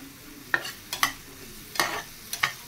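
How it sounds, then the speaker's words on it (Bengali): Chopped capsicum, beans, carrot and onion fry in oil and butter in a pan, under a soft sizzle broken by five crisp scraping strokes of a spatula. "বাটার দিয়ে এই ক্যাপসিকাম, বিনস, গাজর, পেঁয়াজ সব এই কুচি করে এগুলো সব ফ্রাই করছি"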